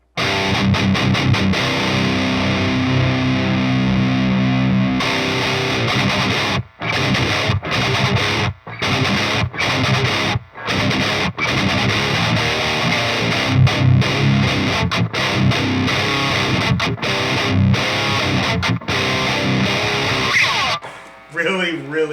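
A heavily distorted electric guitar chugs and riffs loudly through an Airis Effects Savage Drive metal overdrive pedal, crunchy, with brief choppy stops between bursts of playing.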